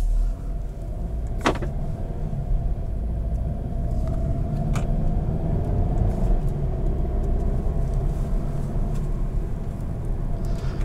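A 2020 Volkswagen Golf Alltrack with a DSG dual-clutch automated manual transmission heard from inside while driving: a steady low engine and road rumble throughout, with a couple of brief clicks and knocks.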